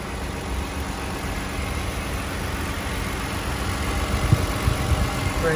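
A 2016 Toyota Kluger GX engine idles with the bonnet open, a steady, even mechanical hum heard close up with a few faint clicks near the end.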